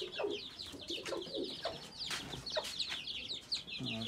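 Java rooster and hens of a mixed breed in a backyard coop setup, clucking and calling in overlapping bursts close by, with pigeons and other birds chirping around them.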